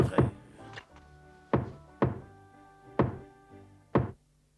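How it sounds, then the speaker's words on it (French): Heavy knocks hammer on a door in about six separate thumping blows, spaced roughly a second apart and close by. "cessez de me casser les oreilles en martelant cette maudite porte"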